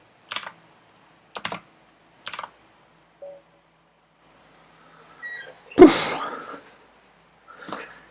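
Scattered computer keyboard key presses during a blindfold chess game on lichess, a few sharp clicks with pauses between them and one louder thump near the end, in a quiet room with no talking.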